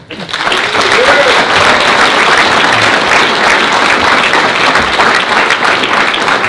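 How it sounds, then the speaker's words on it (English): Sustained applause from a crowd at a podcast interview event, a dense steady wash of clapping that swells in quickly and holds loud throughout. "So a big applause to Jacob Nordangård."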